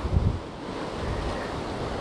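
Sea waves surge around a coastal sea arch, a steady low roar of surf mixed with strong wind buffeting the microphone, with a brief louder gust at the start.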